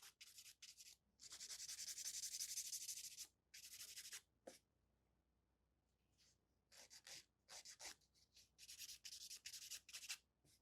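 A nail file works a sculpted gel nail extension in quick bursts of dry, raspy scraping, close and intermittent, with short pauses between strokes and a longer quiet gap midway.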